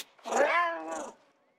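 A cat meows in the video game New World, one drawn-out, wavering cry of about a second, clear and close with nothing else around it.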